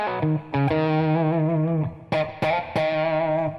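A distorted electric guitar plays the keyboard part of a song in sustained, gritty chords and notes with heavy effects, loud and up front, with a few sharp restrikes toward the end.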